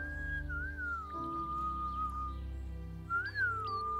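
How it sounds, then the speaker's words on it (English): Clear tuneful whistling, a person whistling a slow wavering melody in two phrases with a short gap between them, close and steady with no talk. "Whistling."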